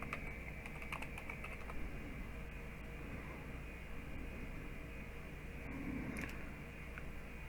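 Soft, steady keystrokes on a computer keyboard at close range, a faint even clicking over low room hum with no speech.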